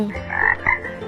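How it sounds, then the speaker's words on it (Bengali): A frog croaks in two throaty bursts, the first longer and the second short, heard up close and on its own. "ব্যাঙ ডাকে বর্ষাকালে।"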